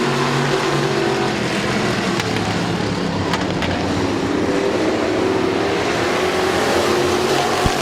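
Street stock race cars thunder around Midvale Speedway, a dense continuous engine roar with shifting pitches as cars pass, loud and sustained with no pauses or voices.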